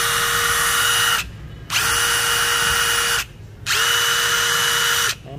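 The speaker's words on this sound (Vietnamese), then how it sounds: "Chúng ta sẽ cùng nhau nghe tiếng máy. Anh em đang chỉnh ở cấp độ số 3 là tốc nhanh nhất và lực mạnh nhất của nó." A DeWalt DCK299P2 20V cordless drill runs at its fastest, most powerful speed setting 3, whirring steadily in three close, loud bursts with short pauses between them, no voices.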